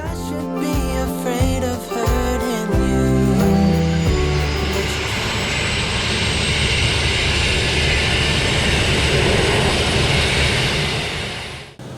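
A Pilatus turboprop airplane engine starts up and quickly builds into a loud, sustained propeller roar that holds steady, then cuts off at the end.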